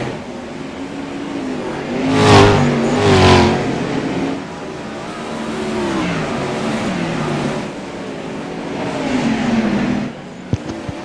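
A pack of 410 winged sprint cars roars around a dirt oval, engines revving hard as cars swell past loudly in two close passes, then a sustained wailing drone with further rising and falling engine notes and a brief sharp knock near the end.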